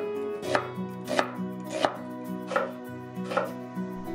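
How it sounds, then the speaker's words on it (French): Knife chopping an onion on a board for a Korean army stew, five or six firm, evenly spaced chops with a steady rhythm and a background hum. "On commence par l'oignon que l'on émince."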